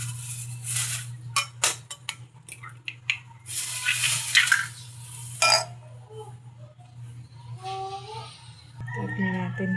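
Eggs cracked into a bowl and beaten with a utensil for a Filipino torta with ground meat, giving a run of quick clinks and taps against the bowl with brief pauses, close and fairly loud over a steady low hum.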